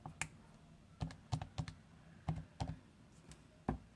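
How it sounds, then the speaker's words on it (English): Computer keyboard keys tapped during a math lesson, about a dozen sharp clicks in short irregular bursts, close and fairly quiet with no talking. "Now we type in"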